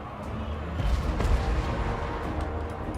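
Cannon fire from a Dwarf army in the Total War: Warhammer 2 battle game, heavy booming blasts rolling through a continuous battle din, with the loudest impacts clustered in the middle.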